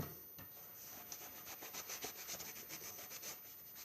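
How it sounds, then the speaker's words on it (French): A hand rubs a wall to work a patina finish into its surface, making a steady, close, soft scrubbing texture that keeps up in repeated strokes with a few slightly firmer swipes. "Vous voyez, je frotte comme il faut."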